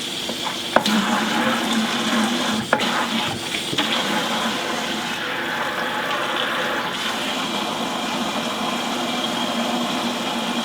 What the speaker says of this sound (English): I'm going to fill this 5-gallon bucket halfway with hot tap water